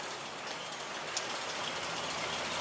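Steady rain falls on a farm under a big dark cloud, a dense, even hiss close by with faint drop patter and no talk.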